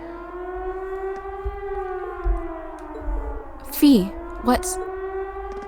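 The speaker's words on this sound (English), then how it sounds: "It sounds like a siren." An air-raid style siren wails from a fort in the video game Trails of Cold Steel, a steady rising-and-falling tone with harmonics that runs throughout at moderate loudness, while a player talks over it.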